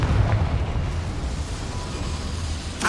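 A Confringo fire spell blasts in Hogwarts Legacy inside a small mine, producing a loud, rumbling eruption-like roar that fills the clip and ends in a sharp burst.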